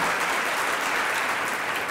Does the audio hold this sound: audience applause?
yes